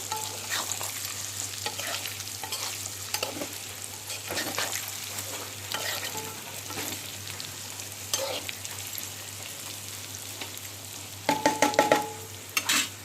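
Bitter gourd stuffed with roasted chana dal fries on a low flame with a soft continuous sizzle, while a utensil stirs and scrapes close by and taps sharply near the end.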